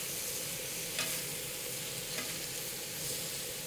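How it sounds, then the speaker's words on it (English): Chicago O'Hare is not involved; chicken sears in a hot pan for a tropical Asian chicken salad, making a steady, even sizzle with a couple of faint utensil taps and no voices. "I'm gonna sear that."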